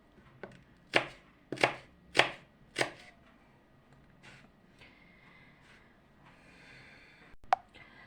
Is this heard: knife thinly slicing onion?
yes